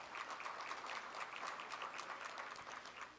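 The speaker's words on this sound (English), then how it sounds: "Please give them all a round of applause." Steady audience applause at a chamber of commerce annual meeting, dense clapping from many hands that holds even and fairly loud for the whole stretch, with no talk over it.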